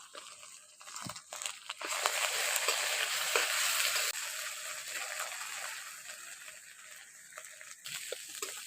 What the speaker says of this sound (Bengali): আদাটাকে পেঁয়াজের সঙ্গে একটু ভালো করে ভেজে নেব।